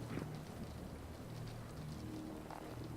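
Steady rain falls outside on a balcony during a Swedish summer, a soft continuous hiss of drops with a low rumbling background, fairly close and unbroken throughout.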